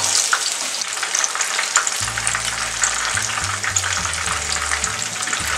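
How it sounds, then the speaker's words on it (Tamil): Chicken pakoda frying in hot oil in a kadai over a medium flame makes a dense, continuous crackling sizzle up close, while a low humming tone comes in partway through. "சிக்கன் போட்டு ஒரு ஃபியூ செகண்ட்ஸில் திருப்பி விடுங்க"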